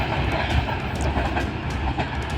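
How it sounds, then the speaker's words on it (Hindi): The 27 Up Shalimar Express, led by Geo 49035 locomotive, rumbles steadily and loudly past a small station, a continuous heavy roar with rhythmic wheel clatter throughout. "Geo 49035 की लीड के साथ ये था एक्शन 27 अप शालीमार एक्सप्रेस का।"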